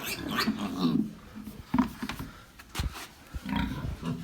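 A young piglet on a farm, handled during weighing and vaccination, gives a series of short, close grunts and squeals in irregular bursts.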